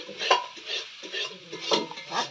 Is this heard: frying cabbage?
yes